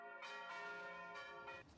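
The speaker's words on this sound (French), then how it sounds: "se termine donc au son des cloches de l'église haute de Beaugneux" Church bells of the upper church in Beaugneux, in the Luberon, ring out in several rhythmic strokes with long ringing overtones, heard alone at a moderate distance.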